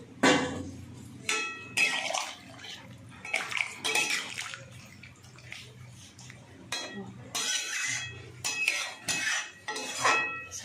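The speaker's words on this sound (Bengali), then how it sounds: "আমি এখানে জল দিয়ে দেবো" Water is poured and splashed into a cooking pot in a home kitchen, coming in intermittent bursts with clinks of metal cookware between them, while a voice speaks softly in the background.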